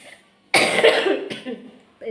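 A harsh, close cough from someone ill with fever rings out, followed by a second shorter cough, with a brief voice sound just after.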